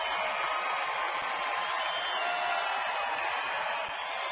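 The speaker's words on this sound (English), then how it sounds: "Padre crowd trying to get it going early here today" A Padres home crowd at a San Diego baseball game makes a steady, distant roar of cheering and clapping, even and unbroken throughout.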